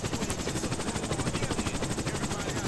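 A helicopter in the SA-MP DayZ multiplayer game, its rotor beating in a fast, steady rhythmic thump with a constant engine drone, loud and near throughout.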